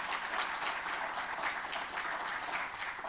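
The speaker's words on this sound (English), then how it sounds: "Can we give a big round of applause for our 4 presenters tonight" An audience at a high school college information night gives presenters steady, dense applause, many hands clapping evenly at moderate loudness throughout.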